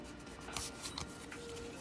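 Trading cards, Charizards among them, shuffled by hand at a card shop: a faint, soft run of riffling and brushing rustles with a few sharper flicks, close and quiet.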